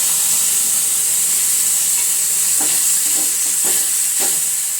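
A liquid spice mix with fennel powder goes into a hot pan and hisses loudly, a steady, close, steamy sizzle broken by several soft scraping stirs toward the end.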